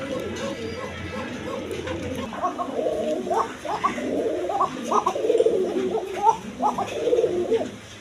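Arabian koka pigeons cooing loudly and repeatedly at close range, a continuous run of deep throaty coos that builds in intensity, with someone talking and steady background noise.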